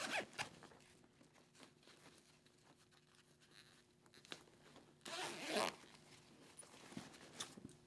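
A zipper on a motorcycle airbag suit is pulled in a few quick rasping strokes, one longer and louder near the end, amid quiet handling and rustling.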